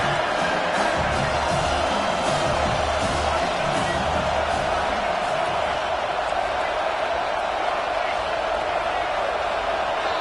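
Home crowd at a college American football game in Buffalo, a steady, loud roar of voices filling the stadium throughout, rising slightly in places, with no clear pauses.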